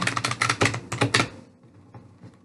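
Tarot cards riffle-shuffled by hand: a quick run of crisp, papery flutters and snaps for about a second and a half, close and fairly loud, then trailing off into quiet room tone.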